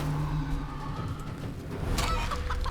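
Clucking from a chicken conjured by a Chicken Claw spell in Divinity II, heard over a steady low game soundscape, with a brighter burst of clucks near the end.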